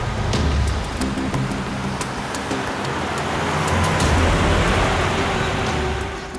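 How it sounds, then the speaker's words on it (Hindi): A car is heard approaching on a road, a loud steady engine and tire rumble with broadband roadway noise that swells in the middle and then fades away, with no talking. "गाड़ी की आवाज सुनी आपने?"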